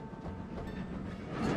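A train on the Severn Valley line runs past with a steady rolling rumble and faint rhythmic wheel noise, heard fairly near and growing slightly louder over a short moment, with no talk.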